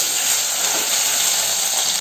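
Garlic and half an onion fry in a little oil in a home kitchen, producing a loud, continuous close-up sizzle and hiss that cuts off abruptly at the end, with no talking.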